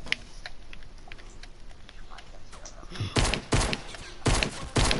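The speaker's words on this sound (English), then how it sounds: "Okay, they're shooting at me." Enemy gunfire in a Fortnite battle royale: after a quieter stretch with scattered shots, a series of loud, close bursts of rapid shooting lands in quick succession.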